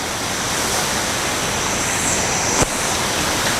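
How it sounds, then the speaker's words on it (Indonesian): River water flowing, a continuous broadband rush close by with a brief click partway through, steady and without speech. "ini sudah mengalir, ini udah air sungai ini"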